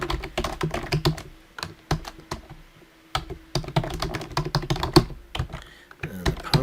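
Computer keyboard keys are tapped in quick bursts while vCenter connection details are entered, close and crisp, with short pauses between runs of typing and no speech.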